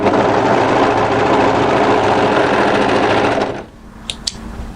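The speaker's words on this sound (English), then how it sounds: "Fold it right sides together and overlock this short edge" Overlocker stitching the short edge of a fabric neckband, a loud, fast, close mechanical chatter that runs continuously and then cuts off, followed by a couple of faint clicks.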